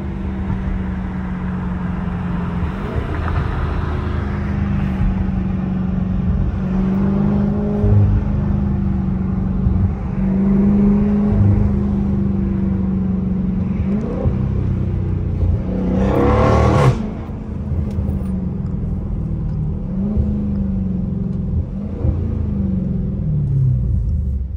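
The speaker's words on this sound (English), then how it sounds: "that bitch sound good in sport" A 2023 Dodge Charger Scat Pack in sport mode gives a steady, loud engine drone from inside the car, with rises and dips as it revs and a brief harsher surge midway.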